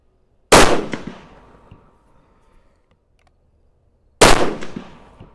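Two sharp, loud rifle shots, each followed by a short echoing decay, fired about four seconds apart with Berger VLD bullets during a seating-depth test at the range.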